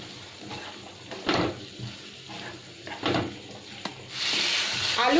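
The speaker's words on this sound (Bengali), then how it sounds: "আলুটা আমি এর মধ্যে দিয়ে দেব। এবার একটু মিশিয়ে নিচ্ছি।" Boiled, cut potatoes being stirred and fried in a pan, with a few soft scraping strokes of a spatula over a low, steady sizzle and a brief burst of hiss near the end.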